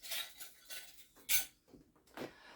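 Metal measuring spoons clink and rattle in a few short, faint bursts separated by quiet gaps, with one sharper clink in the middle.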